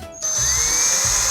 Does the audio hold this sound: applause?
no